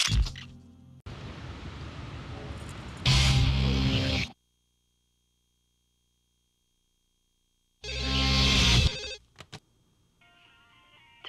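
A phone ringing in the video game No More Heroes, heard as two loud electronic bursts separated by a silent gap, followed by a faint tonal chime.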